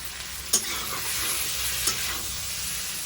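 Paneer and cauliflower vegetables being stirred and sautéed in a pan with a steady sizzle, two sharper scrapes of the spoon standing out, no talking.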